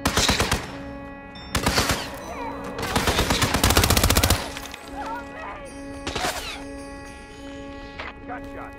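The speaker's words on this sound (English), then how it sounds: "Gunshot! Find that shooter!" Loud bursts of gunfire in Hitman 2, a rapid automatic volley followed by scattered single sharp shots and cracks, close and punchy, separated by quieter ambient game tones, with some voices underneath.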